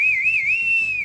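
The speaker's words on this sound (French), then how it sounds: "Et tu siffles, toi?" A person whistles on a TV show set, a single clear sustained whistled tone with a gentle wavering pitch, loud and close, lasting about a second over a faint background.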